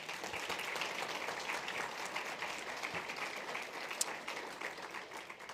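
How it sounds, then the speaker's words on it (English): Sustained applause from a crowd at an annual membership meeting, a dense, even patter of many hands clapping at moderate distance. "They really deserve a round of applause."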